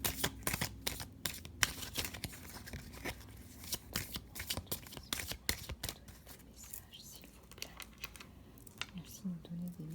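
Doreen Virtue love oracle cards are shuffled in quick, papery bursts of riffling and flicking, close and crisp, with a soft voice murmuring through parts of it.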